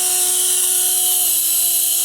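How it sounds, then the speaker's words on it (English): A small LH-1211 mini RC helicopter hovers nearby indoors with a constant high-pitched whine and a thin airy hiss, steady throughout. "it's a really nice helicopter"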